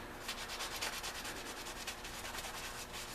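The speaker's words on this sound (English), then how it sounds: "I'll only scuff up the surfaces that you're going to be able to see" Quick rhythmic scuffing strokes of abrasive rubbing over the metal surfaces of a Jeep Wrangler cage before painting, close and steady with no voices.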